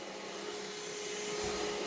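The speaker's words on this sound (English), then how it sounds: "loving that you just press that once and it's vacuuming until you press it again" A Moolan cordless handheld stick vacuum cleaner runs steadily indoors on a floor, giving a constant airy whirring hum that holds level throughout.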